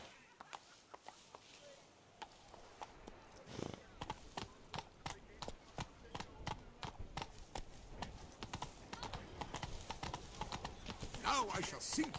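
Roach the horse from The Witcher 3: Blood and Wine walks with slow, clear, close hoofbeats that build into a steadier clip-clop. The sound is fairly quiet overall, and there may be a brief whinny near the end.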